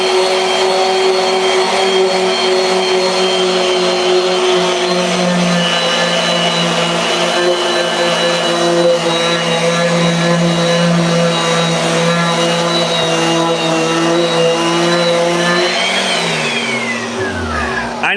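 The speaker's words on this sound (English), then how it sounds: "All right, one more on the orbital sander." An orbital sander smoothing a handcrafted skateboard deck runs loud and steady for about eighteen seconds, a constant whirring drone that winds down at the end.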